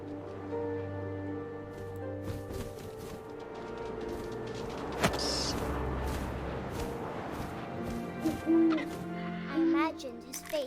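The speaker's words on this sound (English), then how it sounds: "And suddenly, I was an owl." An owl hooting in a wind-swept grassy night setting, repeated hoots mixed with a sustained ambient drone and a sharp transient midway.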